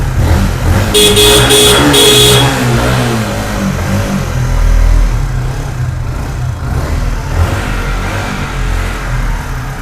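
A motorcycle engine revs and idles up close with a low throaty rumble, while a horn honks in a few short bursts near the start.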